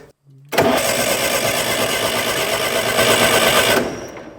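Old ALMACO plot combine engine cranking after brake cleaner is sprayed in, a few faint clicks then an abrupt loud, rapid mechanical churning that runs steadily for about three seconds before cutting off.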